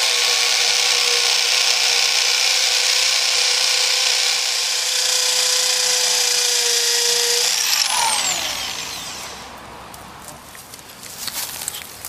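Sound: rotary hammer drill drilling concrete

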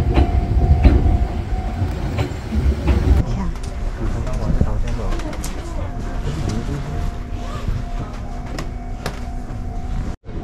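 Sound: Fujikyu train riding to Kawaguchiko station

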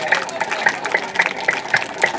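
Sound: group clapping hands

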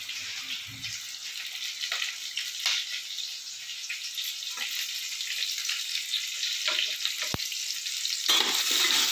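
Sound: potatoes frying with salt and turmeric

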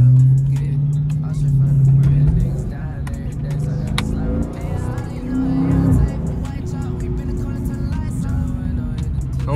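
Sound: Dodge Charger Scat Pack driving on back roads

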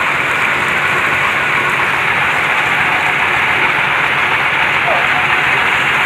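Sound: heavy rain falling at a well-drilling site

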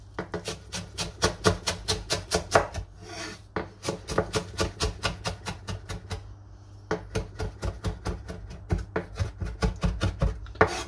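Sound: chopping salad ingredients such as parsley with a knife

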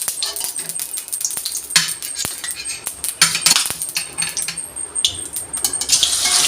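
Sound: putting fish pieces into hot oil in a wok

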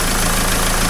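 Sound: diesel car engine idling after injector cleaning with Wynn's

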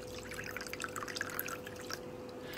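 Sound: water dripping from a floating (levitating) faucet novelty

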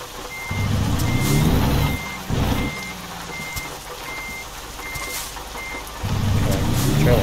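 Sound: truck reversing with trailer in American Truck Simulator video game

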